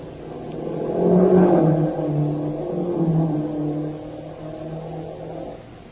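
Staff cars drive past in a 1940s wartime radio drama sound effect, engines swelling to a rumbling peak and then fading as they pass by, muffled and band-limited like an old broadcast, with no voices heard.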